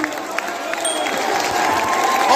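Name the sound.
audience clapping and cheering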